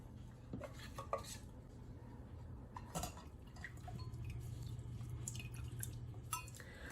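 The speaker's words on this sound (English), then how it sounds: "then we're going to strain out the rest of the syrup in the pan" Homemade elderberry syrup is strained out of a pan, with soft drips and trickles mixed with light clinks of a pan and utensils, quiet and close, no speech.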